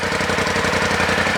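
A car engine idles steadily right after starting, a close, even, throbbing rumble with no break across the short stretch.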